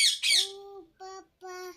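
Three harsh, nasal squawks from a parrot, close and loud, the first longest and the next two shorter, separated by brief silences.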